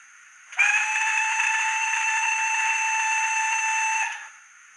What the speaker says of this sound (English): Yet again, another great whistle.